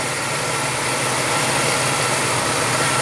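A Silhouette car engine idling while its fuel is leaned out during tuning to drive the oxygen sensor low, the engine stumbling. It gives a loud, steady, close-up rumble with no pauses.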